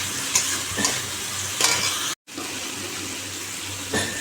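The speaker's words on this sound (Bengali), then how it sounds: "এখন মশলাটা কষাচ্ছি" Spice paste fries and is stirred in a pan, a dense continuous sizzle with periodic scraping strokes of the spoon and a brief cut to silence midway, with no talk.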